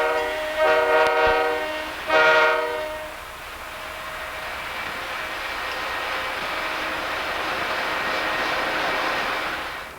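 A train horn sounds in two short blasts, then a long coal train on the Clinchfield line rumbles steadily past, the rolling noise holding for several seconds before easing off.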